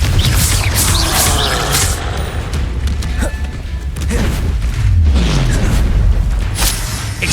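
Explosive fire spells in the Hogwarts Legacy video game burst repeatedly across several seconds, with loud crashing booms, thuds and debris clatter in dense, overlapping succession.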